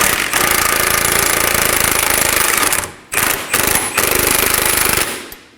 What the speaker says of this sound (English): on this side, we're gonna be using a 19mm socket and remove that bolt